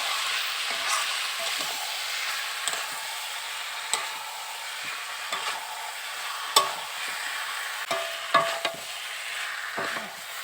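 Mutton curry with boiled potatoes being stirred and fried in a pan, in a rustic village-style kitchen: a steady sizzle runs throughout, broken by sharp scraping and clinking strokes of the spoon at irregular intervals, close and clear with no talk.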